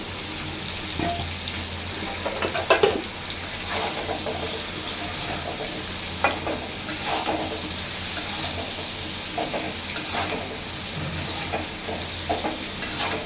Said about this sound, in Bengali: পটল আলু এগুলো ভেজে নিই